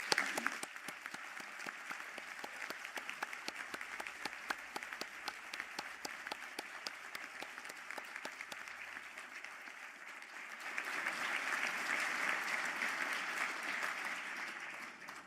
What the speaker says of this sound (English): I ask the graduates of the Department of Building and Civil Engineering programme to stand for a round of applause